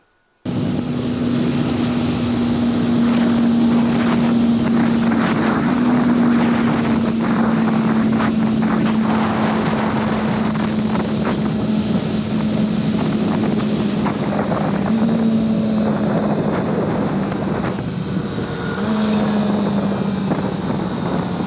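A Kawasaki ZX-4RR motorcycle being ridden above 4,000 RPM, with a sustained high engine drone under heavy rushing wind noise throughout.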